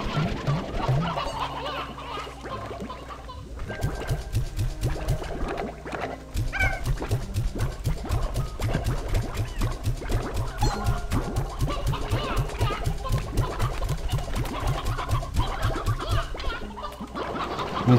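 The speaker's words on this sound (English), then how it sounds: "Actually, I don't need all these roosters." Video-game roosters in Slime Rancher 2, clucking in a rapid, steady string of short calls that runs nearly continuously, up close and loud, with no talk.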